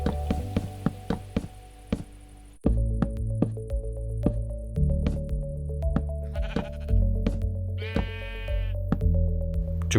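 Sheep in Minecraft bleat several times over a steady game background of music-like tones, with short blocky tapping and placing sounds scattered throughout; the bleats come through clearly and close.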